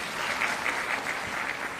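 Audience applause at a ceremony honoring an advocate's son, a dense even patter of many hands clapping throughout, moderately loud and unbroken.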